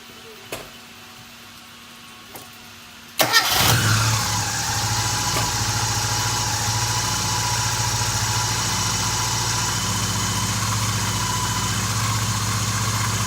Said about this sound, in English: Next, we're just going to start it and make sure it's nice and quiet.